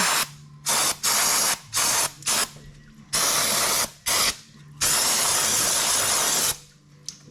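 Brake cleaner is sprayed onto a tractor's fuel filter housing in a series of loud, close hissing bursts of varying length, with one long spray near the end and short pauses between.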